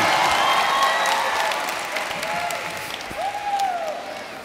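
A commencement audience applauds in a large hall, a loud, dense wash of clapping that slowly fades, with scattered whoops and some voices mixed in.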